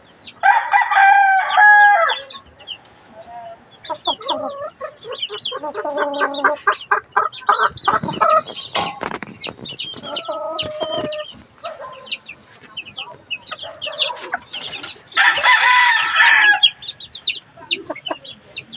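Hens clucking in bursts, with a rooster crowing loudly between them; several birds close by, no talking.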